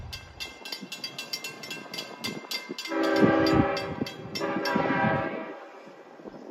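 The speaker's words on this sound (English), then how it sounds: "Train 36 is coming in" A Long Island Rail Road passenger train rumbles in with clattering wheels, then sounds a loud, sustained K5LL horn blast twice, the second slightly shorter, close by.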